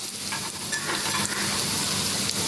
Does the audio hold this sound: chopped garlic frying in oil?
yes